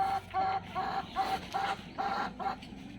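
Young Sasso chickens, three roosters and four hens, clucking in a quick, repeated, rhythmic pattern, close and fairly soft, with no talk over them.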